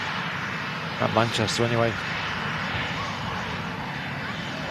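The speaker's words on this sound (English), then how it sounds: "That Eastern ATR still floating around on the taxiway there" An Eastern ATR turboprop taxiing at Manchester airport gives a steady, distant drone throughout, with someone speaking briefly over it.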